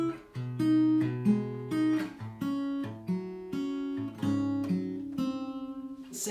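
Acoustic guitar picks a chord pattern, clear plucked notes ringing over sustained bass tones in a gentle, steady arpeggio with no voice.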